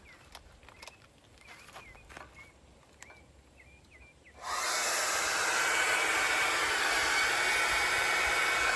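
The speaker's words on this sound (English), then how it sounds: "I want to try the blow dryer." Faint birdsong and quiet background sounds give way midway to a loud, steady whoosh of a 1,800-watt hair dryer, powered by a Bluetti solar generator in a converted Chrysler Pacifica minivan, switching on and running continuously up close.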